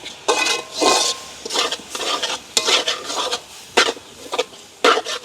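Spices and curry leaves stirred in a cooking pot, a series of scraping, rasping strokes with light frying sizzle, close and steady with no talking.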